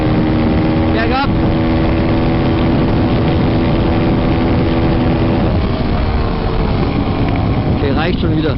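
A motorbike engine roars at full throttle going downhill on a desert road near sand dunes, a loud continuous buzzing drone with wind noise and brief clunks, with a voice speaking briefly over it.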